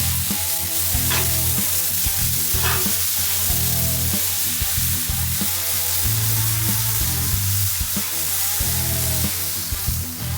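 Thin burger patties sizzle steadily on a hot grill, a continuous loud frying hiss running the whole stretch with no one talking.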